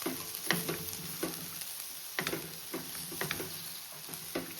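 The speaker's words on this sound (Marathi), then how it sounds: "सो हे बरें मिक्स करता आणि दाखयता तुमकां" Vegetable pulao rice being mixed in a pot, with close, rhythmic scrapes and clinks of the spoon against the pot over a low, steady sizzle.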